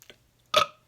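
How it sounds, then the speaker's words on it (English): A single short, loud burp from a woman, close to the microphone, after a faint click in an otherwise quiet moment. "And you can belch."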